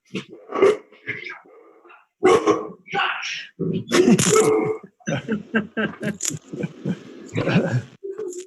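A dog barks repeatedly and loudly, with growling and whimpering, in bursts over a remote selectboard meeting while people keep talking.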